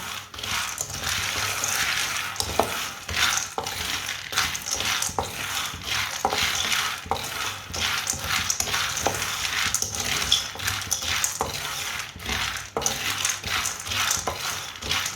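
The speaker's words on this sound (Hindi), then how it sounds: "चनों को भी 2 मिनट के लिए भून लेंगे।" Chickpeas roast over low heat in a pan, stirred with a repeated scraping, rattling rhythm of dry grains shifting against metal, close and moderately loud with no talking.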